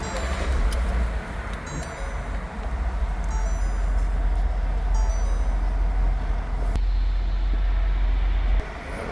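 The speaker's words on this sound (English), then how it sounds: "Start the vehicle." The engine of a 2022 Ford Transit van idles after starting, a steady low rumble heard from inside the cab with constant loudness throughout and no speech.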